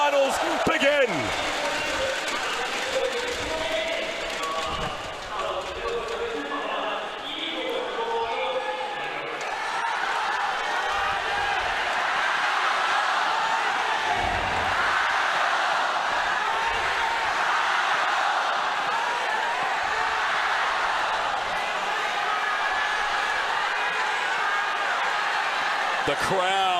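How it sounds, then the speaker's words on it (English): A large arena crowd roars and applauds steadily at the 2019 LPL Spring esports finals between Invictus Gaming and JD Gaming, with commentators talking over the sustained noise. "The crowd has erupted."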